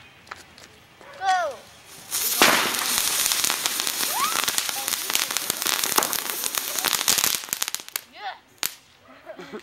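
Small jumping jack fireworks fizz and crackle in a rapid, dense burst of popping and whistling spins around the Fourth of July, with people's voices and shouts around them.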